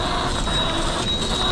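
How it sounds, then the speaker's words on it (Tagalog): Train at Hong Kong airport carrying passengers to immigration, a steady loud rumble of wheels on rail with a constant high whine, heard close from on board. "meron pala sila dito tren papuntang immigration"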